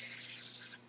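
Hairspray sprayed onto hair in one short, close, loud hiss that cuts off sharply after under a second, with no talking.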